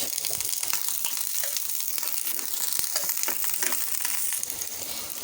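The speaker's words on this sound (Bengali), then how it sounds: "প্যানেতে দিয়ে দিয়েছি তেল দিয়ে দিচ্ছি পেঁয়াজ আর কাঁচামরিচ" Sliced onion and green chillies hit hot oil in a pan and sizzle and crackle loudly, with stirring scrapes and bursts of spitting heard close up throughout.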